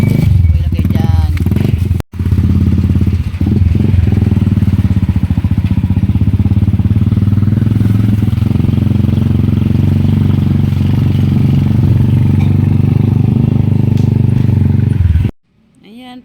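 A motorcycle engine idles and revs loudly and steadily up close, with people talking over it, cutting off abruptly near the end.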